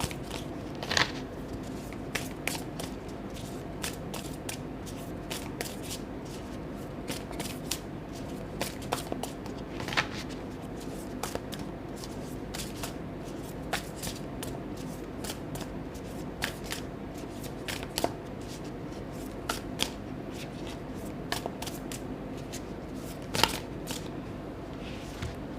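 Tarot cards are shuffled steadily for a long stretch, a continuous close papery riffling broken by sharper card snaps and taps, with no talk.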